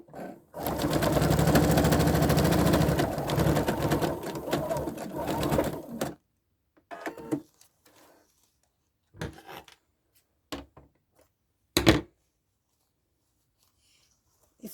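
A sewing machine stitches a silk-satin ribbon scrunchie in a fast, continuous whirring run for several seconds, then stops, leaving scattered soft rustles and clicks of fabric handling.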